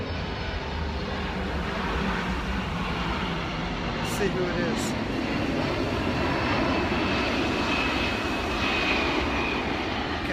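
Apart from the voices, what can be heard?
airplane flying overhead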